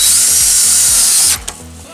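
A power drill drives 5.5 mm self-drilling screws into a house-shaped greenhouse frame, whining loudly and steadily for over a second with a rhythmic ratcheting chatter, then stopping abruptly with a faint clack.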